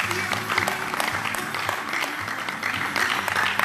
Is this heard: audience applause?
yes